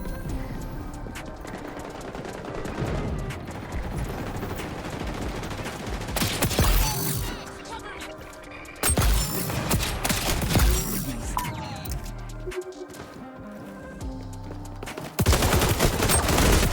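Rapid bursts of automatic gunfire in the shooter game XDefiant, loud and close, with dense clusters of shots broken by brief pauses and some heavier blasts.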